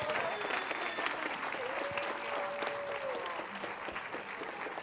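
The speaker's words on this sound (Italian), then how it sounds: "un grande applauso" Sustained applause from a large audience at the Taormina Film Fest, with dense steady clapping throughout and faint voices and tones mixed underneath.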